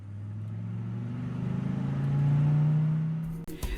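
A car drives along a Zimbabwean road after a tire replacement, a steady engine drone with rising revs and road rumble, ending in a brief clatter.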